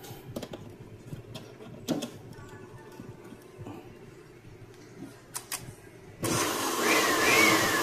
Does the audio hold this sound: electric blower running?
yes